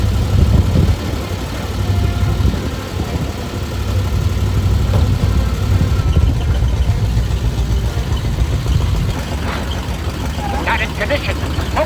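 A smoky old Ford Thunderbird V8 idles roughly and continuously at close range, with some talking and clattering layered over the low rumble.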